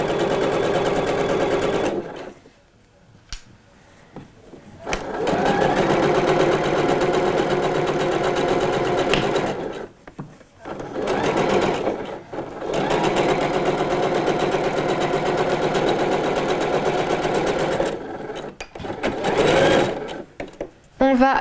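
A sewing machine stitching fabric about 1 cm from the edge while sewing a shorts pattern, running in long steady whirring bursts separated by short stops, with a voice speaking in the gaps.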